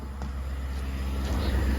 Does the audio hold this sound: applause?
no